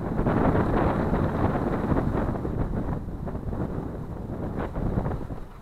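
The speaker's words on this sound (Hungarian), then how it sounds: "hisz fúj a szél, mint állat" Strong wind buffets the microphone outdoors near a ruined church on a walk between Aszófő and Balatonfüred, a loud continuous roar with gusty surges and no talking.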